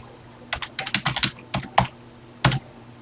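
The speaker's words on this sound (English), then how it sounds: "Let's get typing." Keys clack on a TI-99/4A home computer keyboard in irregular bursts, a quick run of taps followed by a pause and a final pair of strokes, close and crisp in a quiet room.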